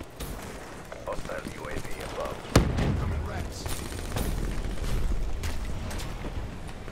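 Shotgun blasts from Black Ops 3 gameplay: one sharp, loud shot stands out near the middle, with further gunfire and explosions rumbling through a busy battlefield mix while a voice talks over it.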